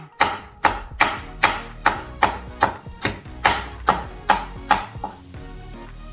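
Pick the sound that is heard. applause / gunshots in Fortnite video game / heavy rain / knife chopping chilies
knife chopping chilies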